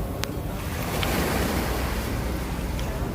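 Sea waves wash steadily onto a beach in a full, continuous surf rush with wind noise on the microphone and a few faint clicks, with no talking.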